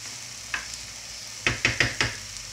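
Zucchini and other vegetables fry in a pan with a faint, quiet sizzle, broken by a single utensil knock and then a quick burst of four stirring scrapes against the pan.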